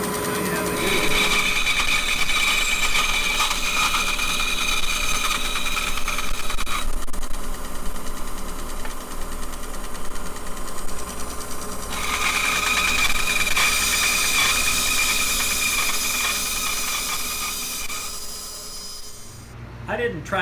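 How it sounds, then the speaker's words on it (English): A bandsaw runs with a dust collector roaring alongside while cutting a wooden guitar bridge blank, a steady loud broadband machine drone with tonal whine that shifts as the blade bites, continuous for about twenty seconds before easing off. "we'll fire up the dust collector and the bandsaw and show you how we do it"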